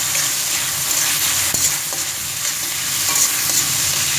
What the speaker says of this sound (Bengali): এবার এটাকে হালকা একটু ভেজে নেব।